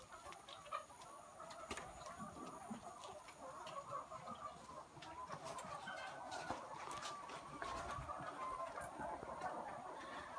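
Many chickens cluck and murmur together in a coop in Honduras, a continuous, busy chatter at moderate distance, with occasional sharper squawks over the flock.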